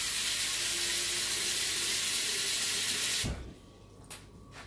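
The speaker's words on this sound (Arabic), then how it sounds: "هنا مبدئيا عندي لتر تاع الماء، غادي نجي الجانب نكب كما كتشوفوا" Water is poured into a cooking pot while making a creamy shrimp risotto, a steady broadband gush that runs loud and continuous for about three seconds and then stops abruptly, leaving faint room noise.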